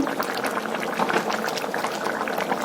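Pea lentil fritters simmer in a mixed vegetable curry gravy, a continuous close bubbling and popping of thick liquid, steady and alone without talk.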